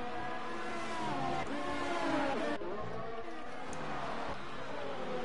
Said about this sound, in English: We've got two cars there, Keelan, J. Cole and Konzo all going side by side